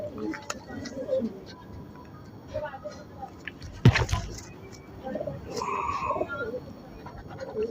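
Pigeons coo in low, soft, intermittent bursts at close range, mixed with rustling and a sharp knock, while people talk in the background.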